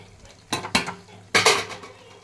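Meat and yogurt being stirred in a pan, heard as two pairs of sharp scraping clatters from a utensil against the pan, each pair separated by a quiet gap with faint sizzling beneath.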